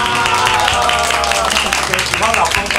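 An audience at a wedding celebration claps and cheers, a steady wash of applause running throughout beneath a host talking loudly over it.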